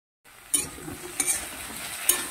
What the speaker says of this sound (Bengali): আর একটু ভালো করে ভাজবো